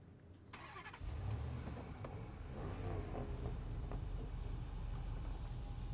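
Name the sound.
V8 engine of a Spartan truck mod in SnowRunner video game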